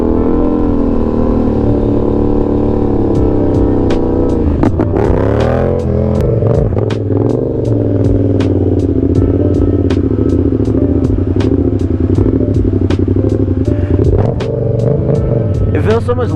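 A Yamaha FZ-07 motorcycle with a new shortened fuel tank is ridden at night, its engine a steady, loud, close drone with a few shifts in pitch throughout.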